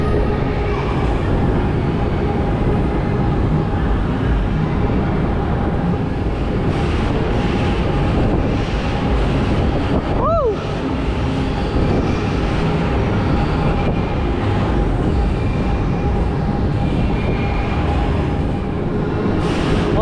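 Crazy Frog fairground ride running at Curry's Fun Park in Portrush, a loud continuous mechanical roar and rumble with a brief rising whine midway, steady throughout with no talk.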